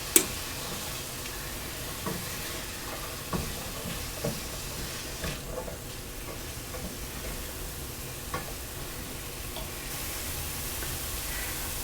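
A spoon clinks and scrapes now and then as vegetables with garlic powder are stirred in a pan, over a soft, steady sizzle; quiet and close, with no voices.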